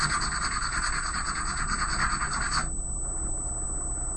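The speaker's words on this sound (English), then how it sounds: "A little bit of sanding." Steady, close abrasive rasping of sanding on an RC model propeller, stopping partway through and leaving a low background hum.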